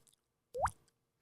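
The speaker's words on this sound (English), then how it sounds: "like when you drop a rock into water" A single rock drops into water with one short, clear plop and a rising watery ring, close and isolated against near silence.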